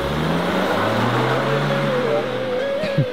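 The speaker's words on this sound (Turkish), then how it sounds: "Otomatik arabayı vurduracağız." An automatic car being bump-started, its engine running steadily and loudly with rising and falling pitch as it picks up speed, close by without talk.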